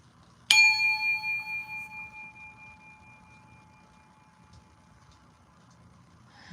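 A bell is struck once for a sound bath, a clear bright ring that hums and slowly pulses as it fades over several seconds, alone in a quiet room.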